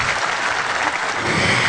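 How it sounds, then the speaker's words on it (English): An audience at a seminar claps in a steady, dense round of applause that stays loud throughout, with no speech over it. "Round of applause."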